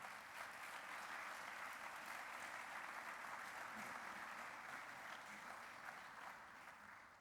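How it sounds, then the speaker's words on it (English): A sustained burst of audience applause after a conference talk, steady and dense throughout, fading slightly toward the end. "Oh, I think we should give Pedro some round of applause."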